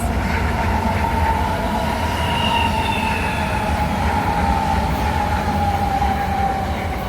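An Airport Express train passes at night along the seaside, a steady loud rumble of rolling wagons with a faint high wheel squeal drifting across, continuous throughout with no talk.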